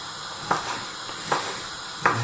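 Thick-diced bacon frying in a dry pan with no added fat: a steady broadband sizzle, moderately close, with three sharper bursts of spitting crackle at roughly regular intervals.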